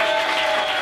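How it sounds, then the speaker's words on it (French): A cabaret audience applauds in a short, steady burst of dense clapping that fills the room, with no voices over it. "Si vous êtes content, vous applaudissez."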